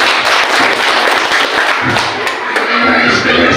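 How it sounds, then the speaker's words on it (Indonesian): Clapping from a crowd at a village primary school event, SD 29, a steady dense patter of hands lasting a few seconds, fairly loud and close, with a few sharper thumps mixed in. "Tepuk tangan dulu."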